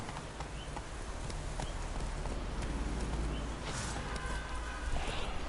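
Hooves clip-clop in a steady trotting rhythm from a horse in The Witcher 3: Wild Hunt, sitting close and continuous over a dense bed of game ambience.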